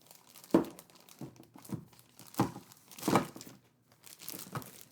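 A plastic meal kit bag crinkles in a handful of separate bursts, some sharper than others, with quiet gaps in between, handled close by and fairly soft overall.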